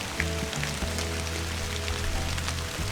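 Steady rain patters in the woods at dusk during a rifle hunt, with scattered droplet ticks over a constant wash and a low hum underneath.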